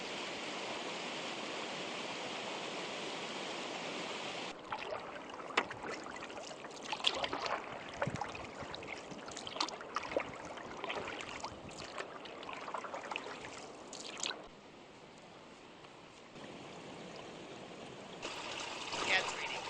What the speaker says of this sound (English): we stopped along the portage to admire this waterfall for a while